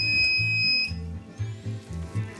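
A primer alarm sounds during ammunition reloading, a loud low buzzing tone pulsing in a steady on-off rhythm close by, with a higher electronic whine fading early on.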